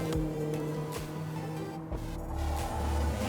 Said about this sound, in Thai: อันดับแรกเรามาฟังเสียงสตาร์ทของคันนี้กันก่อนครับ